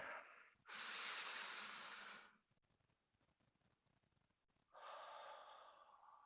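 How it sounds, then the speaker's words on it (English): Deep breathing during a church Sunday service meditation: a long, loud airy inhale close to the mic, a quiet pause, then a second sustained breath beginning, with no talking. "And take a deep breath."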